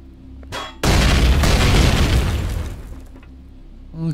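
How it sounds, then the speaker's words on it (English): A loud, sudden explosion from the video game Empyrion Project Eden bursts in after a short pop and rolls on for a few seconds before fading into a lower rumble. "All kinds of explosions."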